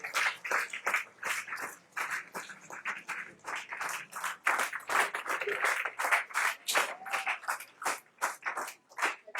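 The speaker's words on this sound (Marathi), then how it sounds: "जोरदार टाळ्या, जोरदार टाळ्या." An audience claps in bursts of sharp, distinct hand claps that rise and fall in waves, fairly close, with a few voices heard among them.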